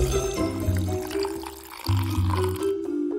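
Water poured into a glass for a summer hack, a continuous close gurgling stream whose pitch shifts as the glass fills, with a brief break partway through.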